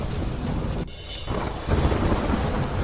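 Torrential downpour in Pali, Rajasthan, where colonies lie flooded, roars as a dense, loud wash of rain and rushing water with a short dip and then a heavier surge near the end.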